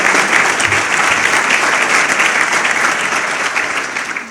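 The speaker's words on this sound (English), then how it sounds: "Can I have one more round of applause for our great majority leader?" A large audience at a town's State of the Town address in Amherst applauds the majority leader, loud, dense and sustained clapping close up that holds steady before easing slightly toward the end.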